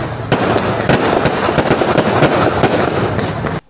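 Fireworks bursting at a town fiesta in Laoang, Northern Samar, a loud, dense barrage of cracks and booms crowding together almost without pause before cutting off abruptly.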